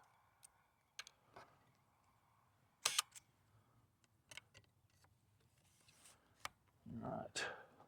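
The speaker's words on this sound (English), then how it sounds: "Cock the shutter, Jared" A Horseman VH medium-format view camera outdoors, its shutter cocked with a few sharp mechanical clicks and ticks, spaced out over quiet background, with a short rustling burst near the end.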